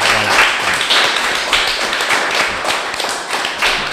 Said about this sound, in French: je propose qu'on applaudisse ces femmes, que c'est elles qui font le travail